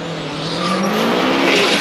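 Race car fitted with a Subaru engine roars steadily and loudly, its revs climbing slightly over a couple of seconds with a faint tire-squeal edge and no voices.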